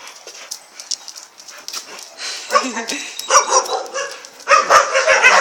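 A small shelter dog barks and yips in short bursts, close by, with people talking around it.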